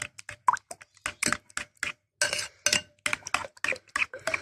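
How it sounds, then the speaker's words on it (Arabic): Croissant batter with two eggs mixed in is beaten in a bowl, giving a quick run of wet plops and soft clinks of a utensil against the bowl's side. The strokes come in a fast, close, steady rhythm. "بضرب الخليط كويس اوي مع بعضه"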